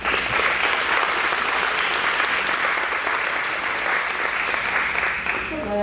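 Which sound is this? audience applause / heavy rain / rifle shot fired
audience applause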